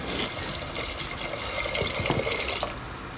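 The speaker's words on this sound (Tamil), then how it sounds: "இதில் 4 கப் தண்ணி ஊற்றிடலாம்" Water runs steadily into a cooking pot of sautéed ingredients, about four cups, a continuous splashing stream with a few brighter drips and gurgles, close and moderately loud.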